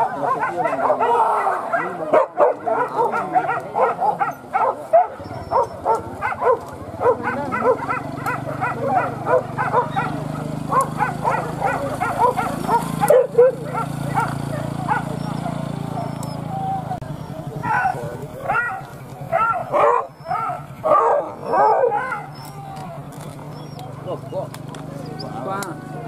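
Many hunting dogs on a wild boar hunt bark and yelp excitedly in rapid, overlapping bursts, close by and loud, with people talking amid the din.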